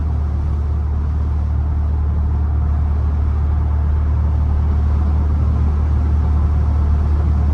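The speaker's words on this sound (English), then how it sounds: "the wind noise is definitely not its strong suit" Inside a 2021 Ford Bronco Badlands 2.7T on the move, a loud constant low rumble of road and wind noise fills the cabin, steady and unbroken with no talking.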